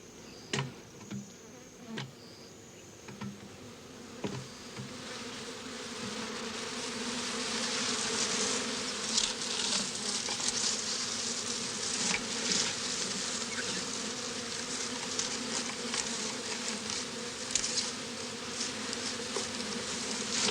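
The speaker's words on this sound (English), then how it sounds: "swarming bees do provide well-protected beekeepers with the opportunity to set up a new hive colony" A swarm of honeybees hums steadily, a dense droning buzz that starts faint with a few close passes and swells into a fuller continuous drone, heard alone without voices.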